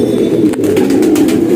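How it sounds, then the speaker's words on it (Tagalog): Many pigeons in a crowded loft coo together in a loud, continuous throaty murmur, close by, with occasional faint wing flaps. "Ang daming ibon"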